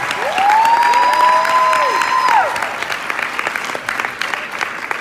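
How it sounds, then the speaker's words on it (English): An audience applauds a singer's performance at a Grow Tour event in Orlando, with steady close crowd clapping and a rising whistle or cheer above it that fades as the clapping thins. "Let's give one more round of applause for Jill's on-call singer."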